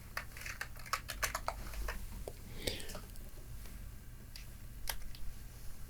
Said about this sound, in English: I'm going to type in CMD, short for command